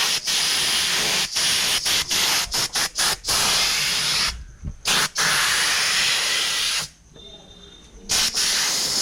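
Spray gun painting Ganesh idols in a workshop in Pen Hamrapur, a steady loud hiss running almost throughout with short breaks and two longer pauses.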